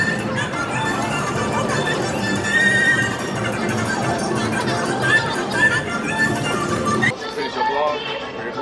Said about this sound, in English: The horses in the chariots.